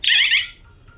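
A home security burglar alarm system gives a single short, loud, high electronic beep as it arms, fading out within half a second into near silence.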